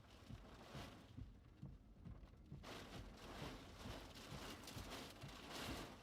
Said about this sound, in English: Rain and wind is picking up quick though where he is.